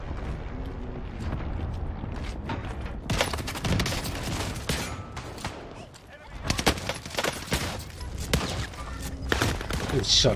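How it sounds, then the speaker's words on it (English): Shotgun blasts and overlapping gunfire in an online multiplayer shooter match, loud and continuous across the whole stretch with sharp bursts near the end, no clear speech. "Shotgun."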